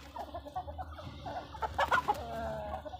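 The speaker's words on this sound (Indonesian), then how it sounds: "inilah ayam-ayam yang ada di kandang untuk sekarang ini" Chickens in a home coop at feeding time cluck and murmur close by, with a brief burst of louder calls in the middle over a low background hum and no talking.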